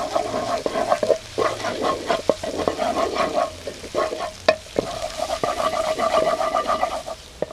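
Yellow curry paste stirred as it fries in a pan for Thai-style crayfish, with a continuous sizzle broken by repeated scraping strokes of the utensil, close and moderately loud.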